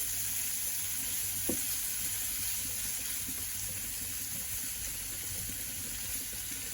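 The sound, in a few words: vegetables sautéing in a pan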